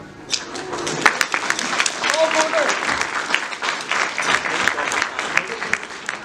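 Wedding guests applaud the bridesmaids and best man, a lively round of uneven clapping with sharp individual claps standing out, while people chat and call out beneath it.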